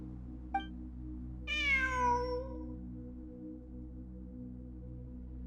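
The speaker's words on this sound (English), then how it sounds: "I'm not hearing things. It really is a cat." A cat meows once clearly in the Genshin Impact game, a short high call that rises and falls over a steady low game ambience, with a faint click just before it.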